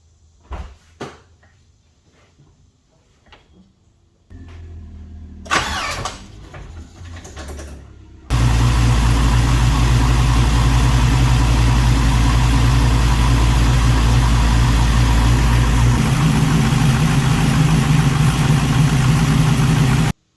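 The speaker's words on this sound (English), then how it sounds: "I'm going to show you the engine movement that the car makes when it's idling" A Nissan 240sx with an LS engine is cranked after some clicks and rustling, catching with a sudden loud roar and settling into a steady, rumbling idle that holds for about twelve seconds.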